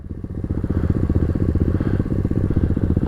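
Several pit bikes ride together on a hillside property, their small engines making a steady, close buzzing drone with fast pulsing firing beats that hold even throughout.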